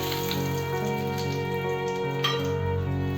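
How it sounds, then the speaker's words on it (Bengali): Bengali five-spice seeds (panch phoron) sizzling in hot oil, a steady close crackle and hiss that keeps up throughout, with a faint tonal hum running underneath. "আমি এই তেলের মধ্যেই দিয়ে দিলাম আমার সেই রেখে দেওয়া 5 ফোড়ন"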